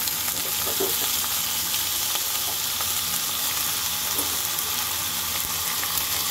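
Country chicken pieces sizzling in a pan over fried ginger, garlic and onion, a loud continuous crackle and hiss with occasional stirring scrapes, steady throughout with no voices.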